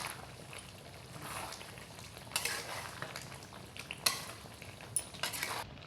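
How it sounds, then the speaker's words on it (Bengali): Spices are stirred into mango pickle with a spoon, giving soft, irregular scraping and gritty clinks of metal against a bowl, faint and close, with a few sharper taps. "এখন আমি আমের সাথে মিক্স করে নেব মশলাগুলো যেন প্রত্যেকটার গায়ে গায়ে লেগে থাকে"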